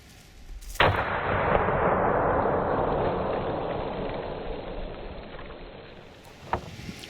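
A shotgun firing a frangible breaching round, one sharp, loud blast that booms and rolls out over several seconds outdoors, followed by a faint click near the end.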